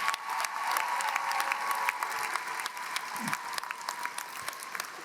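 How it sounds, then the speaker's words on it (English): Commencement audience gives faculty a sustained round of applause, dense steady clapping from a large crowd heard at some distance, with faint cheering underneath. "A quick round of applause for your faculty and everyone else"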